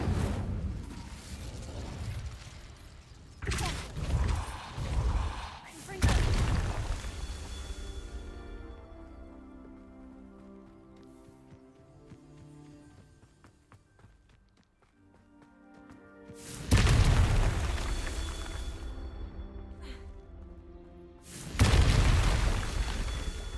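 In the game Hogwarts Legacy, an Incendio fire spell erupts in booming bursts that recur with heavy blasts, separated by a softer, tonal stretch of game music and ambience, loud and near.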